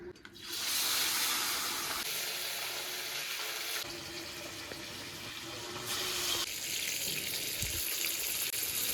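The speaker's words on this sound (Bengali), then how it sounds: "ওদিকে মাছটা ভাজা হচ্ছে" Pieces of rohu fish fry in hot oil with a steady broad hiss of sizzling that holds throughout, shifting in loudness a few times, with no one talking.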